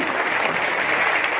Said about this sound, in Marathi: टाळ्या अजून